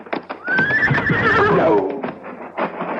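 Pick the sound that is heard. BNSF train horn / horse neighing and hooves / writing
horse neighing and hooves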